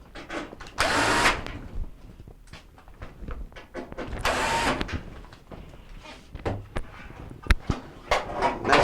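A power drill drives quarter-inch screws into a Whirlpool dryer cabinet, with two loud whirring bursts near the start and middle, separated by quieter clicks and handling knocks.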